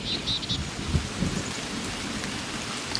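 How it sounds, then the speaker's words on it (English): Steady rainfall hisses across the whole clip, with faint bird chirps early on that drop away, leaving only the wash of rain and low rumbling. "you'll hear the rain slowly coming in and the bird song fading more and more into the distance"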